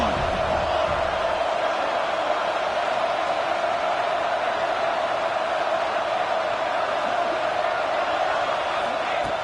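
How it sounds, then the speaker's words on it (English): Football stadium crowd at a Texas A&M playoff game roaring steadily as the defense works in the red zone, a dense, continuous wash of cheering with no break in loudness. "the crowd coming to life here, trying to help this defense down in the red zone"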